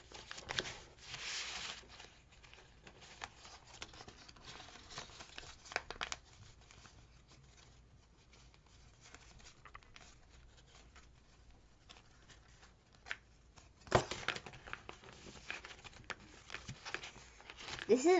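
Wet-folded origami paper being creased into rhino legs, with soft close rustling, rubbing and crinkling in scattered bursts, quiet overall with a louder crinkle near the end.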